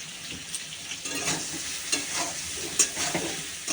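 Spices with turmeric and chili powder stir-fried in a pan, a continuous close sizzle broken by the uneven scrape and tap of a spatula, no speech.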